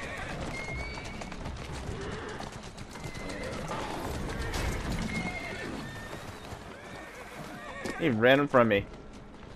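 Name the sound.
horse neighing and hooves in video game Assassin's Creed Syndicate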